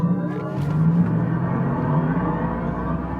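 A Mercedes-AMG EQE 53 electric car's motor hums and rumbles steadily under launch-control acceleration from 0 to 100, a rising whirring drone building with a low engine tone throughout.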